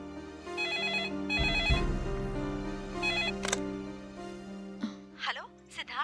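Telephone ringing with repeated bursts of electronic ringtone, fairly close, while a voice talks and other room noises sound beneath and between the rings.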